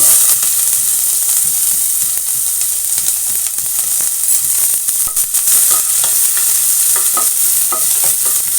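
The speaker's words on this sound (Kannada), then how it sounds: "ಎಣ್ಣೆ ಕಾದಿದೆ. ಈರುಳ್ಳಿ ಹಾಕ್ತಾಯಿದ್ದೀನಿ" Onion frying in hot oil in a pan for an avarekai gojju, a loud, close, continuous sizzle with frequent stirring scrapes and clinks throughout, no one talking.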